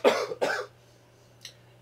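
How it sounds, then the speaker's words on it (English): Two quick coughs close to the mic, followed a moment later by a faint short throat sound, then quiet. "that cough came up"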